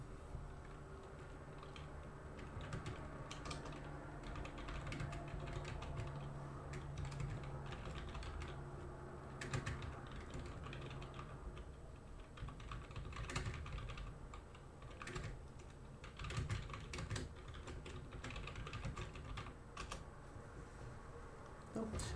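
Fingers type on a computer keyboard while drafting an article in ChatGPT, a steady run of light clicking keystrokes at close range in an otherwise quiet room.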